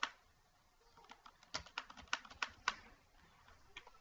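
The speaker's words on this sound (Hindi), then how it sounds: "तो आप इसमें कुछ भी लिखते हैं और इंटर करते हैं" Quiet typing on a computer keyboard while working in Microsoft Word, a scattered run of soft keystroke clicks clustering mid-clip, ending with a final key press and a couple of faint taps.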